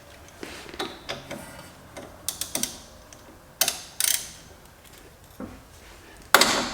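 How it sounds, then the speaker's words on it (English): A ratchet wrench loosens a 12mm brake caliper bolt on a Honda Civic, bursts of quick clicking pawl ticks and metallic clacks, close by, in irregular short runs with quiet gaps between. "So I'm gonna remove that 12mm in the front first."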